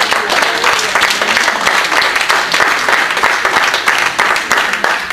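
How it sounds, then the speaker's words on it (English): A church congregation claps and praises loudly, a dense, continuous roar of many hands with crowd noise mixed in, steady and energetic throughout. "Clap your hands and praise the Lord."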